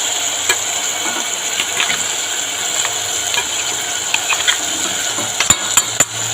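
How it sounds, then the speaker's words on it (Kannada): Ground peanuts dropped into hot oil in a pan for North Karnataka shenga sambar give a steady close sizzle, with scraping stir clicks and a few sharper knocks toward the end, and no talk. "ಮಿಕ್ಸಿ ಮಾಡ್ಕೊಂಡಿದ್ದು ಶೇಂಗಾ ಹಾಕೊಂಡ್ಬಿಡೋಣ್ರಿ"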